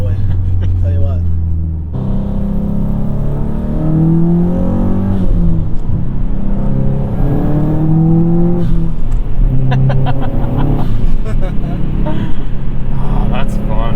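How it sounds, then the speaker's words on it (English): A 2007 Subaru WRX STI driving, its boxer exhaust droning and rising in pitch under acceleration, loud and close from inside the car, with some talk over it partway through. "I just love the exhaust note."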